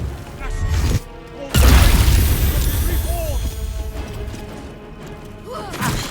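A light cannon fired from a crossbow in Baldur's Gate 3 combat, a loud booming blast with a sustained rumbling burst, followed by lighter game effects and voices.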